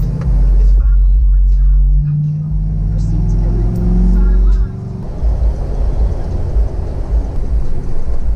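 Pickup truck with street slick tires and broken four-wheel drive, engine revving hard while stuck in grass; a loud, steady low roar with rising pitch sweeps, then a rougher churning texture, voices faintly in the background.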